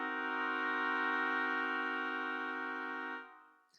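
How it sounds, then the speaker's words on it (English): A single sustained half diminished seventh chord, played as a keyboard-like tone in a music theory lesson, rings steadily and clearly for about three seconds before cutting off, heard alone. "giving us a diminished minor chord, or a half diminished seventh."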